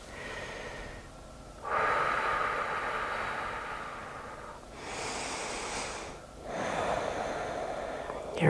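Deep, slow yoga breaths during a Visvamitrasana practice: three long, airy breaths with short pauses between them, close and steady, with no talking.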